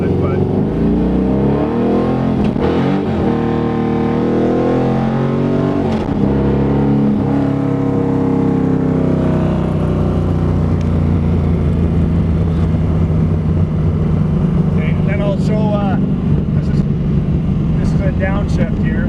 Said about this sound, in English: I'll show you how quick the faceplated tranny shifts here